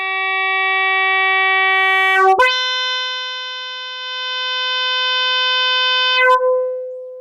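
A sustained synthesizer note with a three-stage envelope, bright and rich in overtones, steps abruptly in pitch twice while its level dips and then swells louder again, heard alone without any talking.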